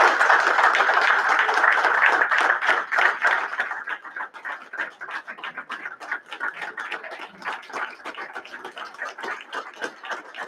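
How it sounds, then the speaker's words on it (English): Applause breaks out in a township council meeting room, a loud burst of many hands clapping that thins after a few seconds into scattered, individual claps trailing off. "we can give her a round of applause"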